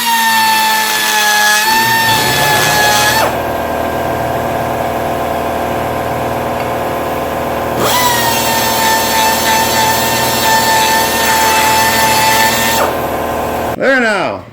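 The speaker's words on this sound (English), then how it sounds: "Compressor kicked in, so it got a little noisy in here" An air compressor hums steadily in a workshop during a 1965 Thunderbird convertible restoration, a loud continuous drone that changes tone twice and cuts off near the end.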